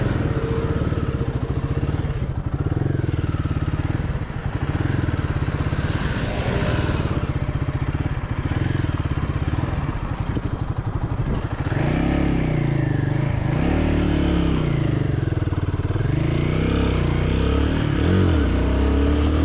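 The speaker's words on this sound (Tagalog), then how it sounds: "Kalmado yung motor." Royal Enfield Guerrilla 450 motorcycle engine drones steadily throughout a ride, close and loud, with pitch rising and falling as the throttle is worked and a faint clatter running underneath.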